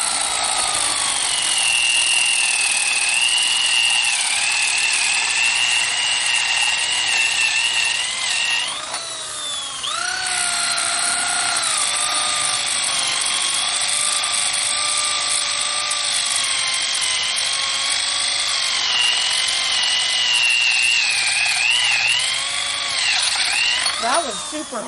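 Power drill boring holes into a rotting, partly dead tree stump, a steady loud whine running almost unbroken, dipping briefly when the bit hits harder wood, with talk over it.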